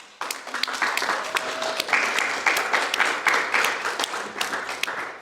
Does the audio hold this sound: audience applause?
yes